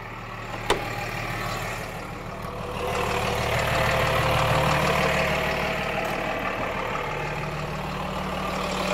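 A Freightliner M2-106 truck engine idles with a steady low rumble and hum, close and fairly loud, with a brief click near the start.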